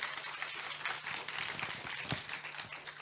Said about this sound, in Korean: 세 분 강연자님께 큰 박수 부탁드리겠습니다